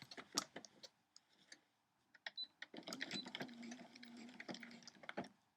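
A sewing machine stitching a lap quilt, quiet and close, with light ticking clicks before it runs in a short steady whirring stretch and then stops.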